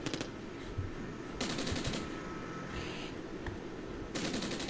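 Small-arms and machine-gun fire hitting infantry in the Armored Brigade wargame, with faint distant bursts of rapid shots rising and falling over a steady background.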